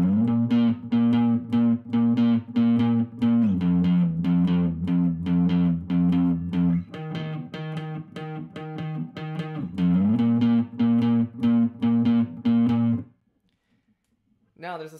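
Distorted electric guitar riff from a song, a steady run of picked, chugging notes with shifting chords, loud and close, playing alone before it cuts to near silence at the end.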